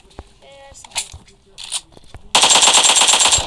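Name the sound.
gunfire in video game PUBG Mobile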